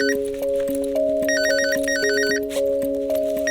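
A mobile phone rings with a repeating electronic ringtone melody, loud and close, with steady looping beeps and a brief pause partway through; no one speaks over it.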